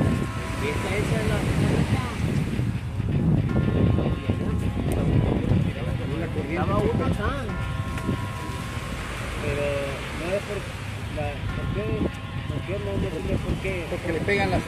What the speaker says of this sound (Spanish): Pegan las olas, pega ahí en la.